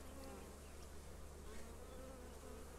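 A steady, dense hum of many honeybees buzzing close by, continuous and fairly quiet, with no voices.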